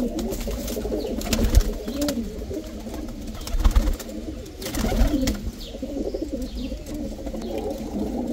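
Pigeons coo steadily at a bird market in Baghdad, with low rolling calls overlapping throughout amid busy market background noise and occasional knocks.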